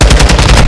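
Rapid automatic gunfire in Call of Duty: Modern Warfare II, hardcore mode, a loud, close, continuous burst of evenly spaced shots filling a brief moment.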